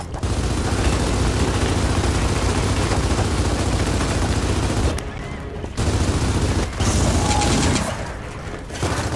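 Sustained, loud automatic gunfire in the video game Gears of War 4, dense bursts running almost continuously with a couple of brief pauses.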